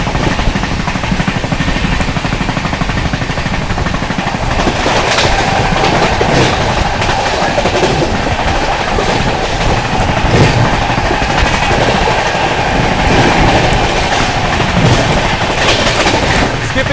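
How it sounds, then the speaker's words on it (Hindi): Gorakhdham SF Express speeding along at 130 km/h, a loud, steady roar of wheels and rushing air with rhythmic clattering over rail joints continuing throughout, no pauses. "ट्रेन जो है अपनी बढ़िया रफ्तार में भागी है, फ्लैट 130 की रफ्तार में"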